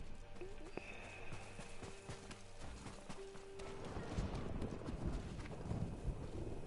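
Horse hooves galloping in the video game Ghost of Tsushima, a rapid, steady clip-clop under wind noise and game ambience.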